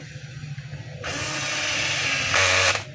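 A power driver whirs as screws go into the handle of a DeWalt D25811 5 kg jackhammer: one steady, close mechanical whine lasting about two seconds that rises in pitch near the end, then stops.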